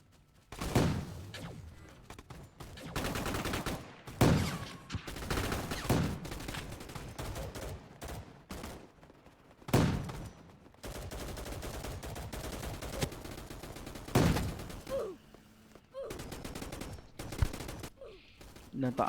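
Gunfire in a shooter video game, with repeated loud sniper shots and bursts spaced every few seconds, some sharp cracks over a busy background, with a voice speaking intermittently.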